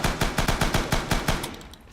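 A fixed machine gun in Rising Storm/Red Orchestra 2 hammers out a fast, even burst of about a dozen close, punchy shots, stopping abruptly before the two-second mark.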